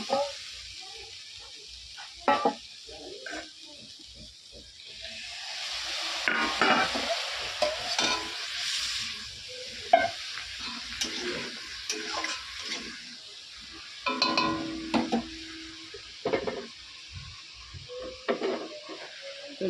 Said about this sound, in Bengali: মেটানো মশলাগুলো দিয়ে একটু কষিয়ে নেব